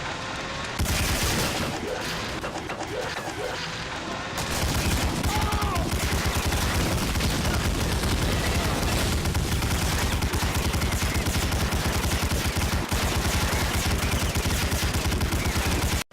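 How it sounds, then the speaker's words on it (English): German anti-aircraft gun firing in the World War II shooter Medal of Honor: Allied Assault Spearhead, a dense, continuous roar of rapid gunfire and blasts that gets heavier partway through and keeps going. "Right off the bat, you get to play with the German anti-aircraft gun."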